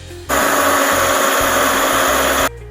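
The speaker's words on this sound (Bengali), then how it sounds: "আমি এবার এই মিক্সিতে পুদিনা পাতা আর ধনে পাতাগুলো পেস্ট করে নেব" A kitchen mixer grinder whirs loudly as it blends mint and coriander leaves into a paste. It starts abruptly, holds a steady high-pitched motor whine for about two seconds, then cuts off, with no talk.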